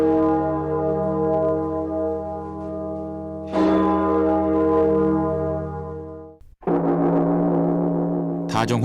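A large bronze Korean temple bell of Seongdeok bell size rings with a deep, long-sustaining hum, struck again midway and once more near the end, each strike loud and close with rich overtones.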